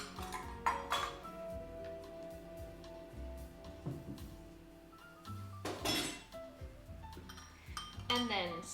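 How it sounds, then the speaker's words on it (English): A spoon stirring a marinade in a bowl, with utensils clinking and knocking against dishes in irregular, close bursts over a quiet background. "stir the marinade"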